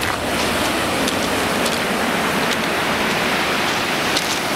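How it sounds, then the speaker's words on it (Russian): Sea waves breaking on the shore at Sochi, a continuous loud wash of surf and spray noise with no break, heard up close and without talk. "Смотрите просто, волны какие."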